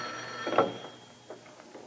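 A telephone rings in a company's office building, heard as a few soft, moderately distant bursts with faint room tone and no one talking.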